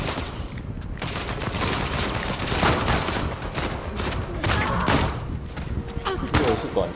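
Rapid machine gun fire in a team deathmatch match of Uncharted 4, a dense continuous stream of shots and impacts lasting throughout, with players talking over it.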